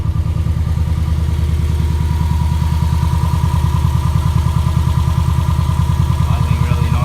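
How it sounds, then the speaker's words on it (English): Subaru Kombi engine idling evenly at about 700 RPM, a close, steady low putter with a regular clattering pulse that runs unbroken throughout. "Idling really nicely. 700 RPM right now."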